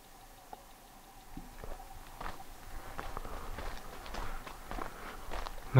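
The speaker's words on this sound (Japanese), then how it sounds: "なんか足音聞こえるんですよね。" Footsteps at a reputed haunted spot in Gunma Prefecture, Japan: faint irregular steps and shuffling that grow slightly louder, soft and close, with a sharp knock near the end.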